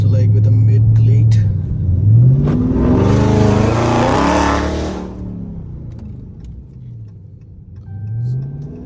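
Dodge Charger Scat Pack with a 3-inch straight-pipe exhaust and mid muffler delete, revving hard in two rising bursts into a loud, raspy roar before settling back to a deep, burbling idle, recorded close up.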